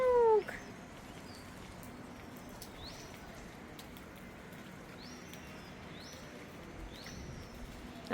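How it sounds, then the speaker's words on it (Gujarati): A peacock calls near a family home under dark, heavily clouded skies, one loud call at the start followed by a few fainter, distant cries over a soft, hissing outdoor background. "જો મોર પણ બોલી રહ્યો છે ટેક ટેક."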